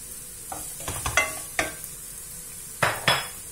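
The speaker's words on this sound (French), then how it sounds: "Je vais faire revenir tout ça jusqu'à ce que mon oignon devienne transparent" Chopped onion and garlic sauté in a pan, with a soft steady sizzle under repeated scraping and clinking from a utensil stirring against the metal. The stirring comes in irregular bursts, close up and alone.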